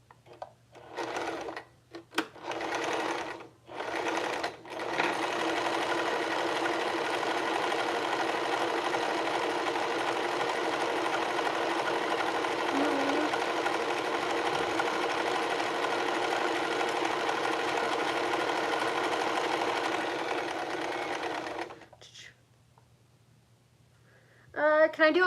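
A sewing machine stitches in one long, steady, close run of rapid needle clatter lasting about twenty seconds, bracketed by brief bursts of stitching and a voice at the start and end.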